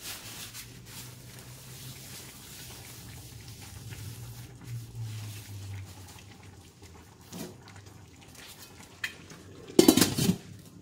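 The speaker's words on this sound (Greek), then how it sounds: "Κλείνουμε το καπάκι." A lid is set down on a cooking pot of giant beans with apaki, fennel and orange on the stove, giving one short, close metallic clatter near the end after a quiet stretch of low kitchen hum.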